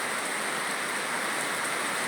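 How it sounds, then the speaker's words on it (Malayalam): Heavy rain falls in Thiruvananthapuram, Kerala, in a steady, dense hiss, close and unbroken throughout. "തിരുവനന്തപുരം ജില്ലയിലാണ് മഴ ഇപ്പോൾ കനക്കുന്നതെന്ന് പറയാം"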